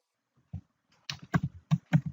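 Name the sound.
typing a command on a computer keyboard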